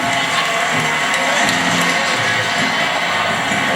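Roaring stadium crowd at CenturyLink Field before a Seahawks Monday Night Football game, a dense, sustained wall of cheering and shouting that stays loud and steady throughout.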